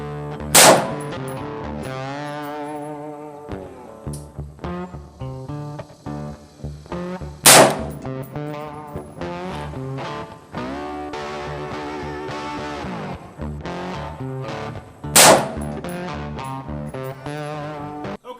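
A rifle topped with a Monstrum G3 1-4x24 FFP tactical scope fires three loud, sharp shots at an outdoor range, evenly spaced several seconds apart, with music playing underneath.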